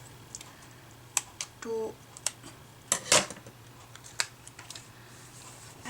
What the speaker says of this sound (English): And then I'll cut these small lines here